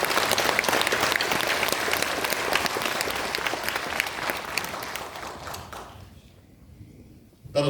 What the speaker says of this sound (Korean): 이 찬양대 앞으로 더 열심히 해주실 걸 우리 박수로 한번 응원합니다